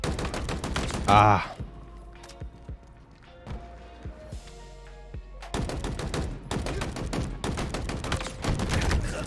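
Rapid gunfire bursts from the commando rifle in Halo Infinite PvP multiplayer, loud volleys at the start and steady repeated shots through the second half, with a short quieter gap between them and a brief exclamation from a player.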